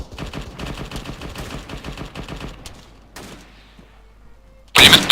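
Rapid machine gun fire in the video game Arma 3, long sustained bursts of dense rattling shots at a steady pace, then a pause with a lone echoing crack before another loud burst near the end.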